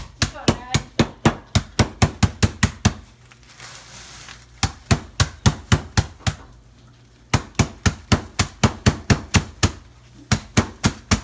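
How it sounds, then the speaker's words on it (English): Sweets inside a bag being smashed into tiny pieces, rapid regular loud thuds in bursts with two short pauses, close by, with no talking. "Maddie is going to smash them into little tiny pieces"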